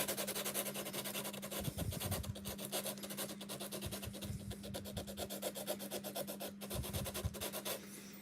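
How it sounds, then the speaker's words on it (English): Emery board nail file, cut down into a small detail pad, rasps back and forth against a surface in repeated short strokes, close and fairly quiet, with a steady hum underneath. "Now I've just cut out a little bit of this emery board to give me a little sort of detail pad."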